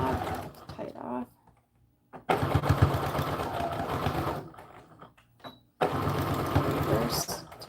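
A sewing machine stitching a doll dress seam and reversing to backstitch, running in two bursts separated by pauses, with a voice speaking in between.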